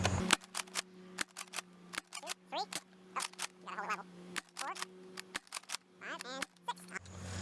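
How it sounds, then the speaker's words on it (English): A Buzz Bee Monorail blaster shooting Nerf AccuStrike darts, a series of sharp, close snapping shots spaced about a second apart, with short mechanical priming clacks between them. "I'm going to fire off 6 of these AccuStrikes"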